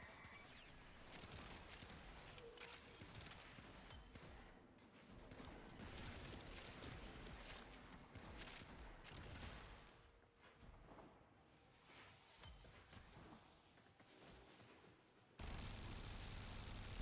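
Rapid gunfire in the video game Warframe, with dense bursts and repeated shots continuing over most of the stretch. It sounds quite faint overall, with no talking.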